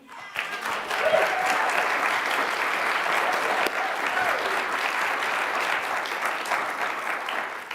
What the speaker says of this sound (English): we have to give a big round of applause to our UU the Vote team